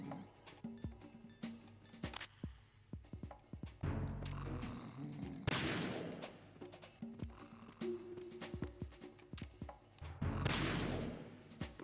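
Bursts of gunfire from Metal Gear Solid 2 crackle in rapid volleys over a busy, layered soundscape, with heavier blasts standing out now and then.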